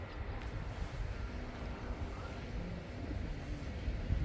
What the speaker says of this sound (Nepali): मजाको हावा चलिरहेको छ यहाँ